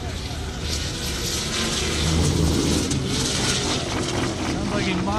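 A 2015 Corvette Z06 drag races down an airport strip, a loud, sustained broadband engine roar that swells in the middle and fills the whole stretch, with a voice talking over it.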